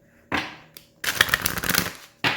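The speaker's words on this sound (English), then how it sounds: "let me just get a really good shuffle" A deck of tarot cards being shuffled by hand in three bursts: a short riffle, a longer dense flurry of card flaps and clicks, then a brief final burst, close and fairly loud with no talking.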